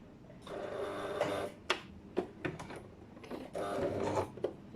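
A sewing machine runs reverse stitching along a zip, with two sustained whirring runs broken by sharp clicks and taps, recorded close up.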